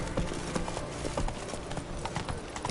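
Roach the horse's hooves clip-clop in steady rhythm through The Witcher 3 game world, close and moderately loud over continuous ambient game sound.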